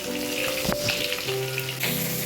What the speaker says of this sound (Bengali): চলো তাহলে মাছগুলো আগে ভেজে নিই